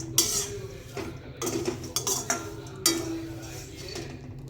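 Warm seeds and rose petals stirred by hand in a dish for a homemade protein powder, giving soft scraping and a few light clinks against the dish, close and continuous over low background noise.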